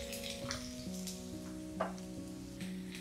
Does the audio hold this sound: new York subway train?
no